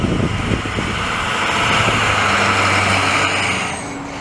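A truck rumbles past on a Montreal street in Verdun, its engine loud and close with a hiss of air brakes, the noise swelling and holding before fading near the end.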